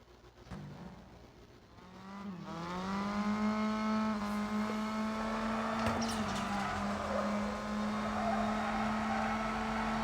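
Race car engine in the Need for Speed No Limits mobile racing game revving up and holding a steady high-pitched drone after launch, with a brief squeal and whoosh midway, loud and continuous with no talking.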